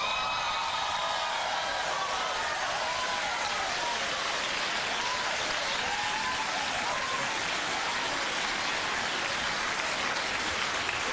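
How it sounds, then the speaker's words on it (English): Studio audience clapping on a daytime talk show set, a steady dense wash of applause that fills the clip at even loudness from start to finish with no pauses. "Most people are clapping Sherri"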